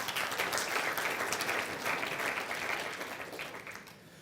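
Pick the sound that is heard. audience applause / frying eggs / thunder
audience applause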